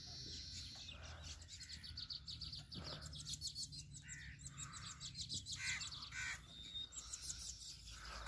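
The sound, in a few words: Asian koel calling in village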